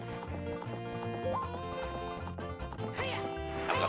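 Epona, the horse in the video game Zelda: Ocarina of Time, trotting with rhythmic clip-clop hoofbeats and an occasional whinny, layered over game music throughout.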